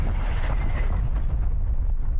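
An artillery strike explodes in a video game with a deep, rumbling blast that rolls on heavily for a couple of seconds, loud and dominant, with no talk over it.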